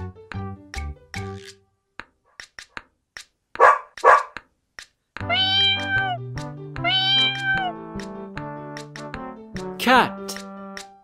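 A cat meows in a children's farm animal song, with several clear, drawn-out tonal meows set against a bouncy musical backing and a sung or spoken voice naming the animal.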